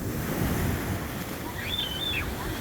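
Sea surf rolls at a crowded beach in Marsa Matruh, Egypt, a steady close wash of waves and wind rumble, with a faint high whistle-like tone partway through and no talking.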